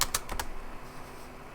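Several quick keystrokes on a computer keyboard as a build command is typed, four or five sharp clicks close up in the first half-second, then a quiet room.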